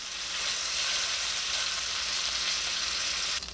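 Quail pieces frying in a pan give off a steady, close sizzle, a loud even hiss of hot fat that holds without a break until it cuts off near the end, with no talking.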